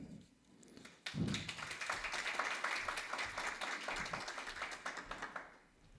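An audience at a talk on human safety and wireless technology claps in welcome, a brief quiet lull breaking into dense, sustained applause that fills the room, then tapers off near the end.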